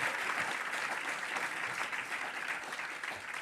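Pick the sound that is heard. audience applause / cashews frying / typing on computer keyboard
audience applause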